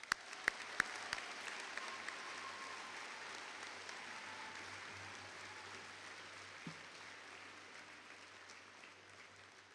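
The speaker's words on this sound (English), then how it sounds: "Let's give a round of applause for all of our veterans." Steady applause from a crowd, a sustained wash of clapping lasting throughout, with a few sharper claps standing out near the start.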